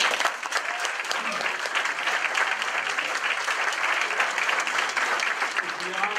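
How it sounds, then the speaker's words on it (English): Sustained applause from an audience at a hospital charity ball for cancer research, dense clapping filling the room steadily for several seconds. "Let's have a round of applause."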